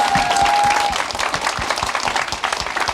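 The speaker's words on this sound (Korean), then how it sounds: "박수!" An audience at a talk bursts into loud, dense applause, steady rapid clapping filling the whole few seconds with a faint tone at the start.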